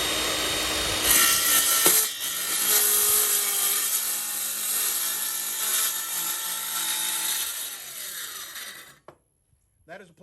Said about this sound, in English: That is a plunge cut.